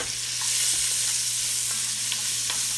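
Onions sizzle steadily in a pot with a constant hiss, while a wooden spoon stirs them with faint scraping taps.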